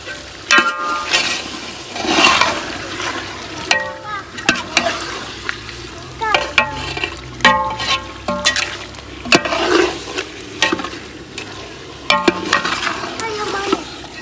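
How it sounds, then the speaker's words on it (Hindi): Chicken pieces dropped into a pan of fried spice masala, frying with loud sizzling bursts, scraping and clattering stirring strokes recurring every second or two. "मसाले की भुनाई कर ली है, तो अब इसमें डालने लगी हूँ मैं चिकन"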